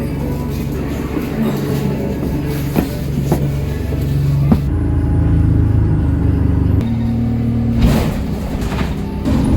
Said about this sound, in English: Right, so I'm finally on the bus.